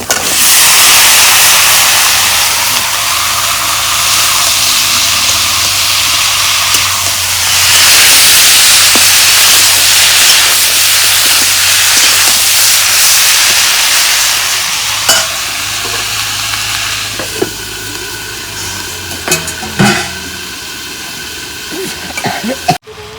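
Kohlrabi hits hot oil spiced with turmeric and masala, setting off a loud, dense sizzle and hiss that slowly settles, with scraping stirs and a few sharp clatters of the spatula toward the end.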